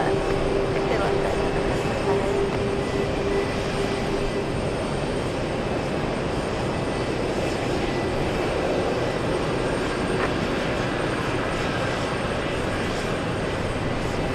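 Airliner jet engines spin up at JFK airport, a broad continuous roar with a faint whine, steady and moderately loud from across the field with no voices.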